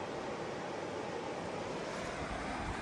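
A swift river current rushes between an island and the river bank in a gorge, heard as a steady, dense wash of broadband water noise with no pauses or voices.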